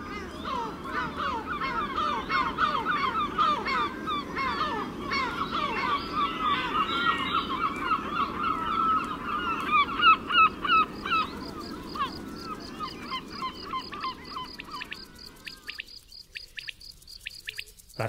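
Seagulls squabble along the Costa da Morte coast, a busy overlapping chorus of harsh calls, honks and chatter, loud and continuous before breaking up into scattered cries near the end.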